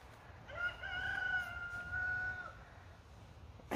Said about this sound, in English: check out that video when we counted how many times the rooster crowed in a 7-minute video